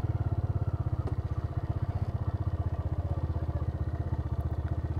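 A TVS Raider 125 motorcycle engine thrums in a fast, regular pulsing beat, loud and close, holding a steady idle-like rhythm from start to finish.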